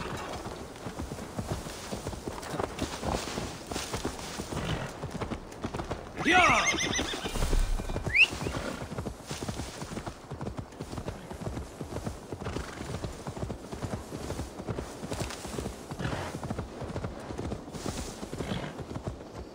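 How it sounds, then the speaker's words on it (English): Steady rhythmic hoofbeats clop along continuously in Assassin's Creed Valhalla, broken midway by a loud horse whinny, with the trotting carrying on afterward. "Now to deliver Magni his horse"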